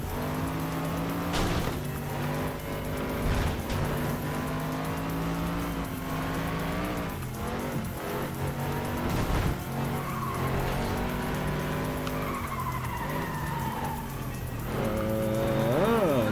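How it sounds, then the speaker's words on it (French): Tires squeal and a car skids out of control in the Flatout 2 racing video game, a sustained loud engine roar with sliding screeches over layered game audio, without pauses. "Voiture hors de contrôle."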